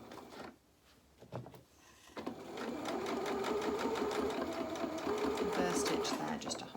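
A sewing machine runs close and loud, stitching pyjama trousers in a steady rapid whir with brief stops and starts, after a few quieter clicks and handling sounds at the start.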